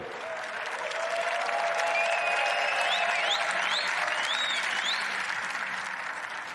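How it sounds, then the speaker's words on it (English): Sustained audience applause fills a snooker championship final arena, steady and dense throughout, with faint whistles rising above the clapping and a low murmur of voices underneath. "Ladies and gentlemen, a round of applause for your finalist, Luca Brecel, and your winner, Mark Allen."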